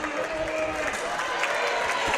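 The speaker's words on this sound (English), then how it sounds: "Crowd, both sides, getting into it here" A girls' basketball game crowd on both sides cheers and claps in a steady, loud roar of voices and applause, with a whistle-like tone and a few sharp shouts over the din.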